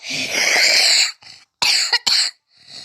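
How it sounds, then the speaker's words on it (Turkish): A harsh, close cough followed by a few shorter coughing bursts, loud and raspy. "Sen öksürüyorsun"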